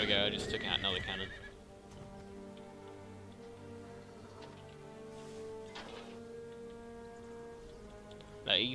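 Horses neighing in Empire: Total War, a Great Britain versus Sweden online battle, with a loud whinny at the start and another near the end, and quieter ticking battle noise and a faint tonal hum in between.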